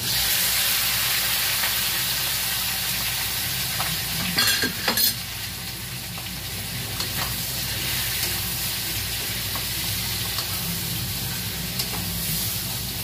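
Steady loud sizzling of pork frying in a pan, with scraping stirs and a brief clatter midway, no voices.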